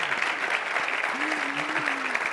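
A crowd breaks into sustained applause during a live televised show, dense even clapping filling the whole moment, with a voice faintly audible beneath it.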